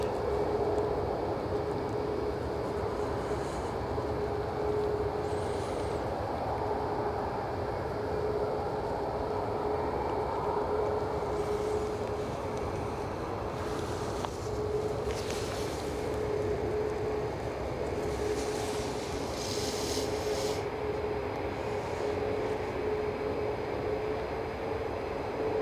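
EasyJet airliner at Edinburgh airport, a steady broadband jet roar with a faint whine holding level throughout, fairly distant and continuous with no voices.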